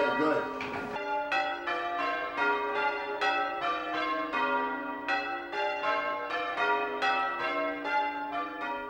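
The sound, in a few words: English change ringing church bells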